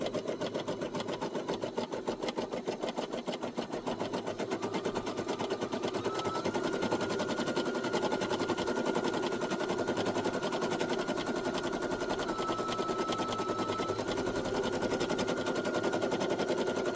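A Brother SE1900 embroidery machine stitches a coffee coaster with a steady, rapid mechanical rattle of needle strokes. The sound is close and continuous with a faint whine, and nobody speaks.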